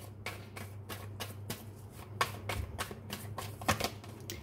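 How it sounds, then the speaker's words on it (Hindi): Tarot cards being shuffled and drawn, a quick run of crisp riffling slaps and flicks repeating every half second or so, close and fairly quiet over a steady low hum. "और कार्ड्स निकालती हूँ मैं फिर बताती हूँ आपको"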